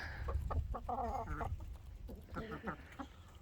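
Chickens cluck and chatter at close range while pecking at a feed supplement, with short clucks in irregular bursts over a steady barnyard background.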